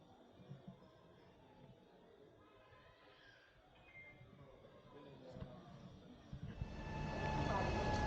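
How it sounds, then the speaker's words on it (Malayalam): A train on the Ooty mountain railway approaches a station, its rumble and squeal starting faint and swelling to a loud, close roar over the last couple of seconds. "നമ്മുടെ ട്രെയിൻ ഇതാ വന്നുകൊണ്ടിരിക്കുകയാണ്"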